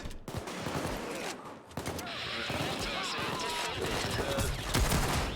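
Sniper and minigun fire in Payday 2 crackle in rapid, uneven bursts amid a busy game soundscape, with a person talking over the shooting.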